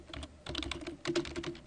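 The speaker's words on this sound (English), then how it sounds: "I can go ahead and type transitions" Quick bursts of typing on a computer keyboard, with close, crisp key clicks arriving in two rapid clusters separated by a short pause.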